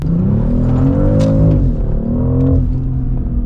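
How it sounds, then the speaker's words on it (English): A BMW X3 M50 G45 SUV with a 400 hp engine accelerates hard on the Autobahn from 100 to 200 km/h, a loud, close engine roar climbing through the revs with one brief dip at a gear change. "we will get on the Autobahn here and do a short 100 to 200 acceleration"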